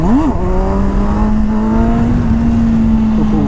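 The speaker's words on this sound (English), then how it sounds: "I never really got a chance to do a wheelie on this." A Kawasaki sport tourer motorcycle's engine rises sharply, dips, then holds a loud, steady, buzzing high-rev drone close by while the rider pulls a wheelie.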